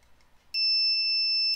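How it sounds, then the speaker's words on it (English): A relay buzzer on a roll-off observatory roof automation rig, built with an Arduino, gives one steady, piercing electronic tone lasting about a second over a faint background. "The buzzer went off indicating"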